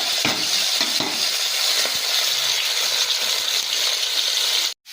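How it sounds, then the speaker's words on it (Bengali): Katla fish pieces fry in hot oil in a pan, a loud, dense, close sizzle running steadily with occasional spatters before stopping abruptly at the end. "উল্টে অন্য পিস খুব ভালো করে ভেজে নেব মাছগুলো খুব ভালোভাবে ভাজা হয়ে গেছে"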